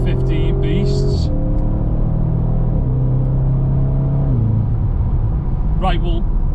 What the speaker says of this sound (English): 715 horsepower, put a little bit of warmth into the engine.